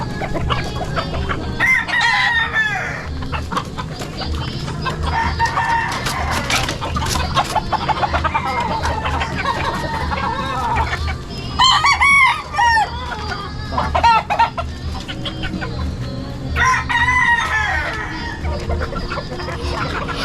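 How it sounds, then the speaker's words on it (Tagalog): Native chickens in a rural Philippine yard, clucking steadily with several loud rooster crows rising above the flock, close by, with faint voices now and then. "Dalawang manok yung kakatayin namin."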